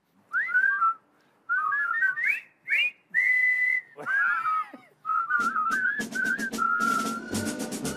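Someone whistles a lilting melody in short phrases with brief pauses, clear and close, ending in a faster run over some background clatter, in a workshop restoring a 1943 M16 half-track.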